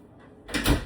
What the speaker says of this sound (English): let me shut this door here